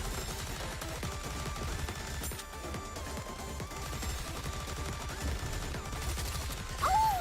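Rapid automatic gunfire from the video game Goddess of Victory: Nikke rattles in steady bursts under a game soundtrack, continuous and moderately loud, with a brief sharper effect near the end.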